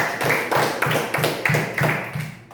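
Classroom applause for a student group, a steady run of group clapping in rhythmic pulses, fairly close and clear with no talking over it.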